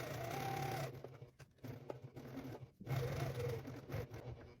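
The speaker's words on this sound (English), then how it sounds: "We always back stitch just to lock the stitches in place." A sewing machine back stitches a fabric pouch, its steady motor whir running in bursts with short pauses between stitching runs, close and alone.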